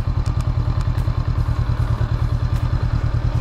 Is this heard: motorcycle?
yes